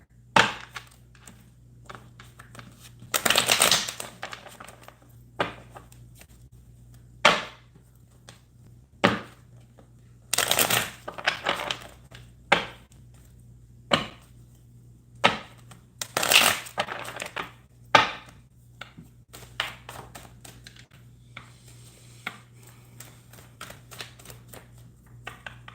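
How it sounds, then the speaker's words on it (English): A deck of tarot cards is shuffled by hand in a quiet room, giving a series of short riffling bursts and soft taps spaced every few seconds, close and fairly faint. "Let me give you a few shuffles here."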